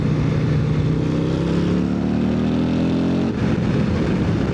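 A built Harley-Davidson CVO motorcycle with a 135 engine, heard while riding: steady loud engine drone with rising revs and wind roar throughout, briefly dipping near the end.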